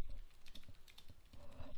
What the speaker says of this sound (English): Again, I'm typing this in.